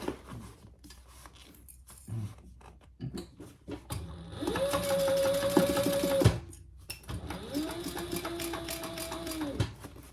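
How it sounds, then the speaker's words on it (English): A sewing machine top-stitches an eighth-inch line along a zippered pouch in two long, steady, close-up runs, each a couple of seconds, preceded by light clicks and handling noises. "I'm just doing 1/8 of an inch top stitch here."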